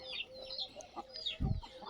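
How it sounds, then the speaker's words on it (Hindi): Desi chickens cluck and chirp softly at a distance on a low-cost poultry farm, with a rooster-like call and a short low thump partway through. "अभी आपके सामने मैंने ये दिखाई है तो मेरे देसी मुर्गे हैं।"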